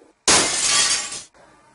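A glass hammer smashes to pieces in one loud, sharp shattering crash that rings on for about a second, then cuts off abruptly into near silence.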